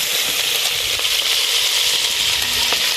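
Onion, carrot and meat frying together in a pan for Uzbek shurpa, a steady close hiss of sizzling oil with faint stirring clinks, no talk.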